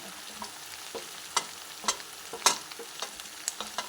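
Curry leaves, turmeric and red chili sizzle in hot oil while making kaju paneer masala, with sharp crackles and pops bursting every half second or so over a faint steady hiss, fairly close and without talk.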